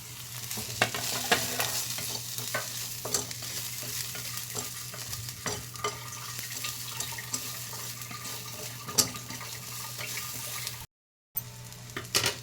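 A Marathi home-style masala of tomato, coconut, sesame, cumin, garlic and ginger roasting in a little oil in a pan, giving a steady close sizzle with scraping stirs and a few clinks, briefly cut off near the end.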